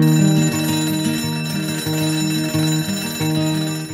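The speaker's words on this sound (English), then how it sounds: "coming awake to an alarm bell with a sudden start" An alarm bell rings loudly and steadily for several seconds in a rapid, repeating metallic pattern, heard on its own without talking.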